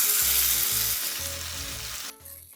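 Tomato ketchup hitting hot oil with diamond-cut onions and bell peppers for dragon chicken, a loud steady sizzle broken by low scraping stirs, dropping away near the end.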